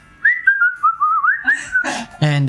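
A single person whistles a wavering, meandering tune up close for over a second, followed by a few short spoken syllables and a sustained voiced sound.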